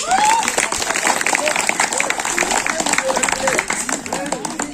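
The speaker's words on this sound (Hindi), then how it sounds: "आप सभी जोरदार तालियां बजाइए" A crowd at a World Indigenous Peoples' Day event in Chhattisgarh claps loudly in a dense, continuous burst, with shouts and voices rising through the applause.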